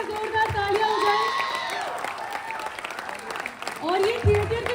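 A university crowd at a Bihar Diwas celebration gives a performer loud applause mixed with cheers and whoops, rising and falling across the clip, with voices calling out over the clapping.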